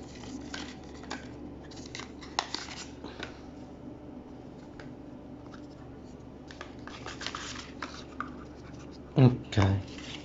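Packaging for a 512 GB M.2 SSD is opened during a gaming PC build, with faint rustling, scratching and plastic crinkles under quiet talk, ending in a couple of louder handling thumps.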